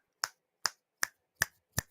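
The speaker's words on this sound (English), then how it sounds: "snapping my fingers" Five crisp, close finger snaps at an even, unhurried pace, each a sharp isolated click with silence between.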